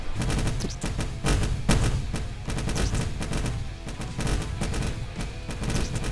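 Rapid bursts of cannon fire in a turret defense game, repeated booming shots in quick irregular volleys, loud and close.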